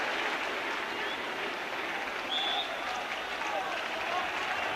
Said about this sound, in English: Kevin Ratcliffe, just going back to his position, gets a round of applause for that imaginative burst